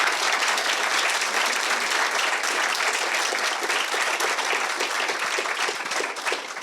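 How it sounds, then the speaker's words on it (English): A lecture audience at a Science at Melbourne evening on water and air pollution applauds the speakers, loud, dense clapping that stays full and continuous, easing only slightly toward the end. "So can you give them a round of applause?"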